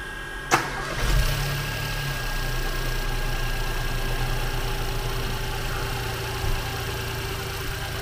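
A Ford Fiesta EcoBoost engine with about 56,000 miles, cranked with the clutch pedal held down, catches with a sharp start and then settles into a steady, close idle.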